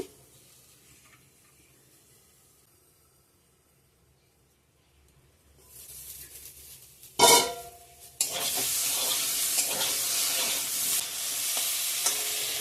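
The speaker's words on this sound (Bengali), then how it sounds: "টমেটো ধনে লঙ্কা মশলাটাও ভেজে নেওয়া হয়ে গেছে" Tomato, coriander and green chili masala frying in a pan: near silence at first, then a sharp clatter and a loud, steady sizzle that continues to the end.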